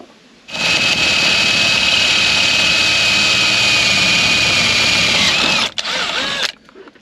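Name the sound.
power drill drilling a hole in metal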